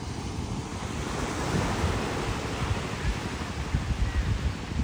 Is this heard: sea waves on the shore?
yes